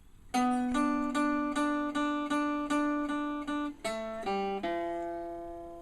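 Guitar plays the first measure of the four-bar intro to a song, a clean run of evenly picked repeated notes ending on a few lower sustained tones, quiet and alone.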